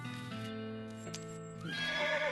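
A horse in the video game West of Loathing gives a clear, loud whinny, with a brief rise in noise near the end.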